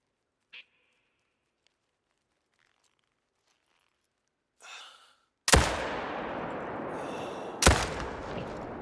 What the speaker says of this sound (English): I messed up my shot there, the second shot, because I waited a little too long